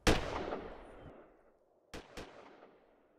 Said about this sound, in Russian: это просто салют.